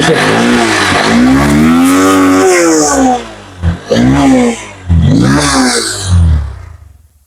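Small motorcycle engine firing up after a starting-problem repair, a loud close rasping start that rises and revs in bursts, with brief dips between throttle blips.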